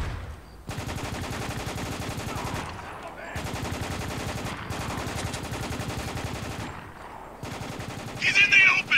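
Rapid gunfire in Spec Ops: The Line, with long sustained bursts of automatic fire broken by short pauses and a harsher, louder crackle of shots near the end.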